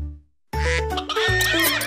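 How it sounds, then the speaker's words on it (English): A horse neighs in a loud, close whinny with a shaky, descending tone, preceded by a brief quiet moment and a short lower sound. "The horses on the farm say neigh, neigh, neigh."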